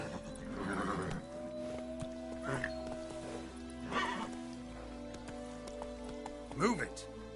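Horse Roach neighing and whinnying in The Witcher 3 video game, several loud whinnies with faint hoof clops, while voices talk over much of it.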